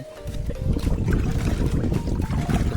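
Water steeped with mustard oil cake and banana peels is stirred in a container for feeding dragon fruit plants on a Kolkata rooftop, giving a continuous close sloshing and swirling with no speech.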